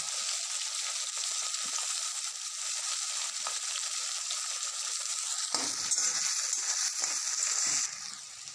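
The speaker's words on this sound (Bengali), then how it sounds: "এবার আমি পেঁয়াজ আর টমেটোটা দিয়ে দিলাম" Continuous frying sizzle that surges louder midway as onion and tomato are added to the pan, then settles back down.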